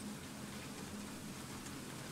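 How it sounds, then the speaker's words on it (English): Steady, quiet rainfall in the video game Incident At Grove Lake, with a soft continuous hiss, alone and unbroken. "soothing rain sounds."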